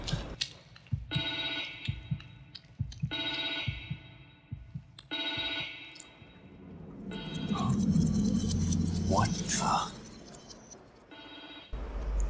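A telephone rings in The Evil Within 2, set in a mental hospital: repeated electronic ring bursts in an even rhythm with short gaps, followed by a louder swell of eerie game ambience and effects.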